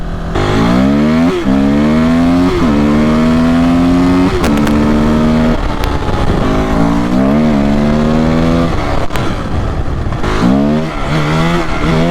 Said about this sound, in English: I need an exhaust for this thing. It's not that it's quiet, it's loud, right?